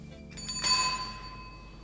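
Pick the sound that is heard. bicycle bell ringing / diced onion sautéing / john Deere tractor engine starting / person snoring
bicycle bell ringing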